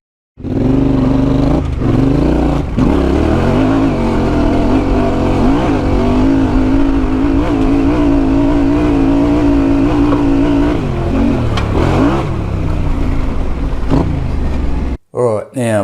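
A Yamaha Ténéré 700 motorcycle engine with a fault that stops it revving past about 6,000 RPM runs loud and close, its drone rising and falling steadily for most of the clip before cutting off abruptly near the end.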